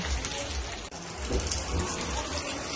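Steady afternoon rain pours down at Kapatagan near Mt Apo, a dense, even hiss of drops hitting surfaces, loud and close throughout with a brief dip near the start.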